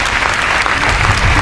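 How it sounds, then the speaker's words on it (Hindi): A live audience at a Holi comedy-poetry show claps loudly and steadily for a singer, a dense continuous wash of applause with a faint voice underneath. "एक बार जोरदार तालियां राधिका के लिए होनी चाहिए"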